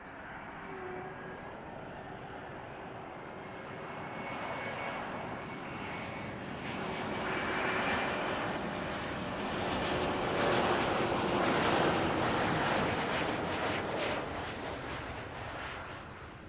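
A jet airliner at Zurich Airport on runway 28 roars through its takeoff run, a broad steady engine noise that swells gradually and peaks near the end before easing slightly, with no voices over it.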